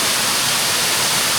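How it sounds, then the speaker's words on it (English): A waterfall pours into a cave entrance as a loud, continuous, broadband roar of rushing water, close and unbroken. "The waterfall pouring into the cave and the sun coming down."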